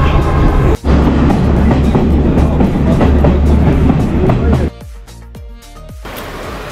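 Passenger train ride from Kandy to Nanu Oya in Sri Lanka: a loud, steady carriage rumble with rattling clatter that drops back to a quieter rolling sound partway through.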